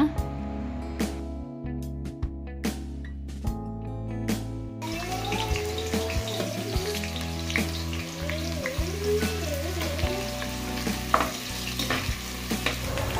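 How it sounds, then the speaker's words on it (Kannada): Sliced onions fry in ghee and oil in a pan for mutton biryani, a steady close sizzle broken by scraping stirs and clinks of a spoon, with a voice speaking over it at times. "ಈರುಳ್ಳಿನ ಚೆನ್ನಾಗಿ ಫ್ರೈ ಮಾಡ್ಕೊಳ್ಳೋಣ"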